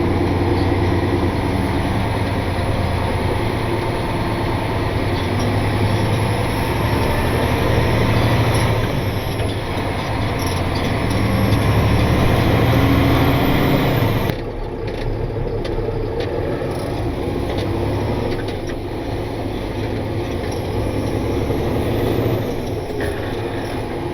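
A truck engine fitted with spiked tires pulls away and works up through the gears, a steady, loud, smooth drone that climbs and falls with each shift, with a sudden drop in level partway through.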